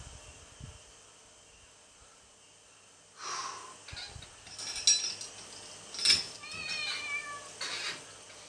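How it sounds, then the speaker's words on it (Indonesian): A cat meowing close by in a home workout space, a few drawn-out meows and short cries with faint clinking in the background and no talking. "Meow."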